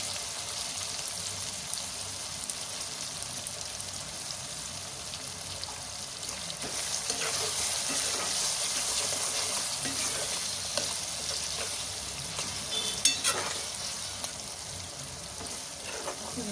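Capsicum, peas and other vegetables fry for vangibath, giving a steady, close sizzle through the pan with occasional scraping stir strokes and small clatters, with no talking throughout.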